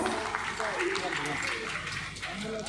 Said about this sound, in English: I need a big round of applause.